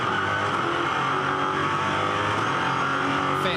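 A GT race car's engine drones at a steady, sustained pitch on the Adelaide street circuit during the 2011 Australian GT Championship, a loud, even roar with no clear gear changes.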